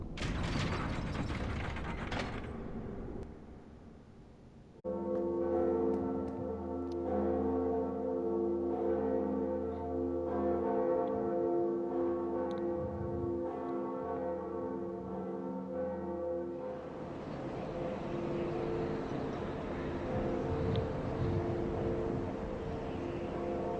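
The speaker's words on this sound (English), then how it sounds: "we have got to ring the other bell of awakening" The Bell of Awakening in Dark Souls rings with a sustained metallic tone for about twelve seconds, layered over grinding, ratcheting mechanism sounds that continue before and after it, all at a low level.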